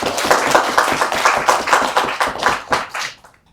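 Clapping hands from a community council meeting audience, a few seconds of rhythmic applause at a steady level that fades out toward the end.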